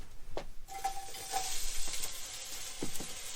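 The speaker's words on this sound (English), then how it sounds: "I think you can hear that sizzling" Potato pieces frying in a pan give a steady, moderate sizzle with light stirring and scraping clicks throughout, no talk over it.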